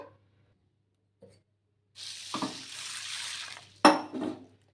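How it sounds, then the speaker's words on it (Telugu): Urad dal and fenugreek seeds being washed in water in a bowl, with splashing and swishing followed by a sharp clink, heard close up and fairly quiet. "ఇందులోకి కొన్ని మెంతులు ఒక స్పూన్ అన్ని మెంతులు కూడా వేసేసుకొని నీళ్లు వేసుకొని రెండు మూడు సార్లు అయితే కడిగేసుకుందాము"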